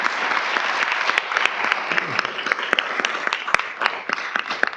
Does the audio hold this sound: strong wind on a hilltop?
no